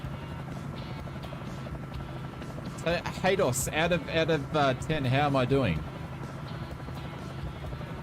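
A helicopter flown in Microsoft Flight Simulator over the Congo River gives off a steady rotor drone with a low buzzing hum that runs throughout, while someone talks over it in the middle.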